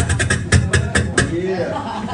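A beatboxer's voice imitates closed hi-hats with a quick run of crisp, clipped ticks in an uneven rhythm, close and fairly loud, trailing off into softer mouth sounds.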